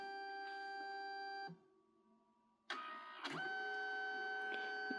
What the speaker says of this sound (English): Now it's printing the magenta layer.